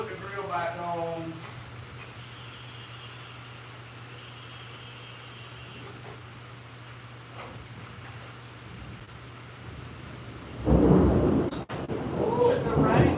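A thunderstorm with rain rolls in over a 1986 Chevrolet Silverado C10 under repair, a steady low rumble and hiss of rain, then a loud burst of thunder near the end as someone talks.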